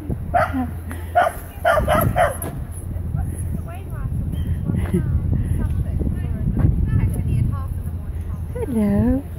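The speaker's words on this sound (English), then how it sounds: "So many dogs." Several dogs bark and yip in short bursts early on in a park, then a whimpering whine near the end, with people talking in the background.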